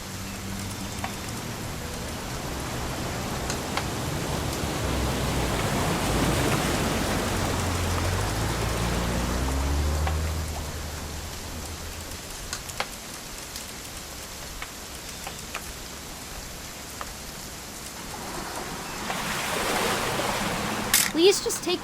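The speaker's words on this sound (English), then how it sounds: "It's gonna rain the whole weekend" Steady rain patters continuously in the video game What Remains of Edith Finch, a dense hiss of drops on a surface, with people talking intermittently over it.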